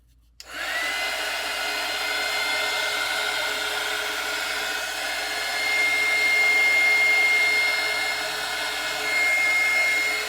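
A handheld heat tool blows hot air onto a doll, switching on abruptly into a loud, steady, close blowing roar with a faint whine that holds for the rest of the clip.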